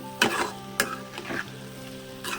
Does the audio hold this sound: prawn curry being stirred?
yes